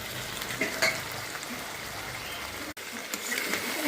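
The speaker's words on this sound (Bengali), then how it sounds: "মশলা দিয়ে মাংসটা সুন্দর করে কষিয়ে নেব।" Mutton sizzles as it is stir-fried with spices in a pan, a steady close frying hiss with faint scraping stirs throughout and one brief break.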